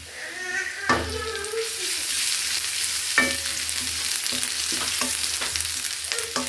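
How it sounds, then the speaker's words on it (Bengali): Chopped ginger sizzles in hot oil in a pan while muri fry (fried puffed rice) is made, a steady crackling fry with a few sharp stir clatters near the start and middle, close and fairly loud throughout. "এগুলোকে বেশি ভাজবো না বেশি ভাজলে আর খেতে ভাল লাগবে না"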